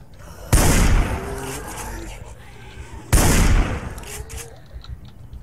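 Two loud, close pirate shotgun blasts in the Project Zomboid survival game, a few seconds apart, each a sharp broadband crack with a short decaying tail over a low background rumble.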